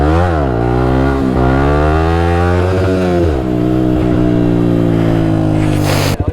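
A 125cc four-stroke motorcycle engine revs hard and holds a loud, droning, rising-and-falling note while the rider keeps a wheelie going, close and continuous throughout.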